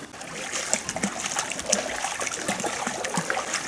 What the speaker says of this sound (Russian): Только грохот весла и бульканье воды.